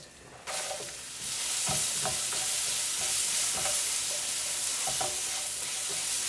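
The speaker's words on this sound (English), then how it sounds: "we're going to saute these onions until they get translucent" Chopped onions sauté in a pan with turmeric powder for keto kadhai paneer, a steady broadband sizzle with a few clinking spatula strokes against the pan, close and continuous with no voices.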